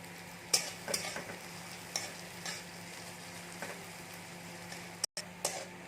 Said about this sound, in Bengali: পেঁয়াজটাকে একটু আমি ভেজে নেবো